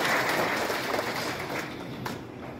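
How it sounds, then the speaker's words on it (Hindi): An audience at a BJP event in Jhabua claps to welcome a speaker, a dense wash of applause that is loudest at the start and slowly eases off over a few seconds. "एक बार जोरदार ताली बजाकर विजय अटवाल जी का स्वागत करें"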